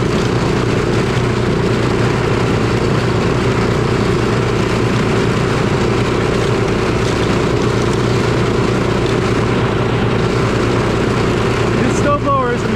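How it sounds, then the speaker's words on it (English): A cheap snowblower clearing snow from a sidewalk drones with a loud, steady engine roar and hum that runs unbroken and close for the whole stretch, with a short scraping rattle near the end. "This snowblower is amazing."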